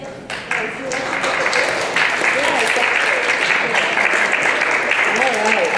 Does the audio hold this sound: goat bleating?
no